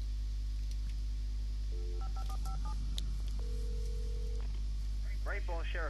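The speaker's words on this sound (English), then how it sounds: "Let's just get on this phone." A telephone being dialed in the video game Alan Wake, a short run of dial tones played quietly over a steady hum, followed by a faint voice.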